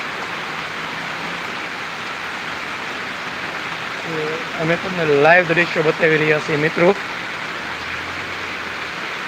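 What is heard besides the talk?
heavy rain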